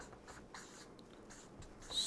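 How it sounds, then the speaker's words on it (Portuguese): Faint, soft scratching strokes of writing on a board in a quiet classroom, a few short bursts close by. "vamos escrever aqui"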